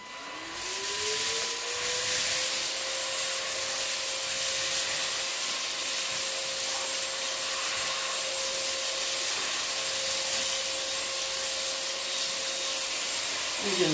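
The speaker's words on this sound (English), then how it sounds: "It's quite powerful for a vacuum cleaner with a battery." A Silvercrest SHAZ 22.2 C3 cordless hand-held vacuum cleaner, battery-powered, whirs up to speed and then holds a loud, steady whine close by with no talking throughout.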